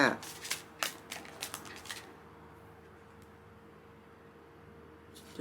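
Tarot cards are shuffled in a quick burst of crisp riffling clicks and flutters over about two seconds, close and fairly loud, then the sound falls away to quiet room hiss.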